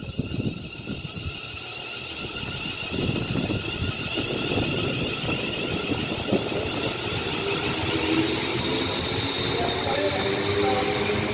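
A London Northwestern Railway train pulls out of Rugby station on the West Coast Main Line. The steady, loud rumble of wheels and motors builds, with a rising whine and a squeal from the rails.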